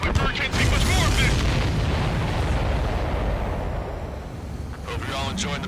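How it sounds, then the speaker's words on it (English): A supply ship explodes in Ace Combat 7: Skies Unknown, a loud, sustained rumbling blast that rolls on for several seconds under voice chatter. "Did you see that explosion?"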